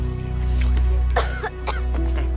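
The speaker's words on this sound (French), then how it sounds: "Elle tousse, ça va aller maintenant, c'est fini." Several harsh coughs from a baby girl in quick succession, close by, with a short pause and then a couple more throaty coughs.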